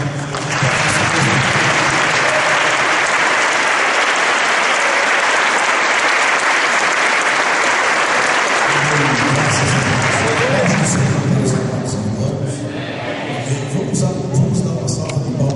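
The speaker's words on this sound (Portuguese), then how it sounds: "Vamos recebê-lo com uma salva de palmas em nome de Deus." A church congregation at a Brasil para Cristo convention in Minas Gerais breaks into loud, sustained applause to welcome a pastor, dense clapping filling the room before thinning slightly toward the end, with voices mixed in.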